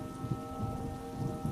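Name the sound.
rain falling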